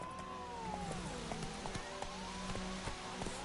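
Roach, a horse ridden in The Witcher 3, trots off with steady clip-clop hooves over a continuous game ambience, with tonal game music running underneath.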